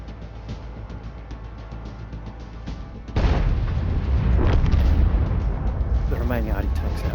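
Artillery in a strategy war game, a sudden loud barrage of booms kicking in midway over a steady low rumble, with someone talking throughout.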